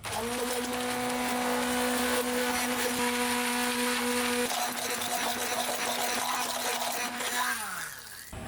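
Homemade mayonnaise being beaten in a blender as oil is added little by little, a loud steady motor whir with a sustained hum that runs continuously before shifting and winding down near the end.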